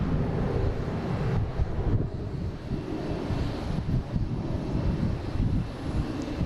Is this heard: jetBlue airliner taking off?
yes